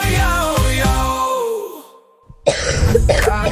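Within a children's song, a sung voice over rhythmic music breaks off for a short pause, then one or two sharp coughs burst out loudly and close.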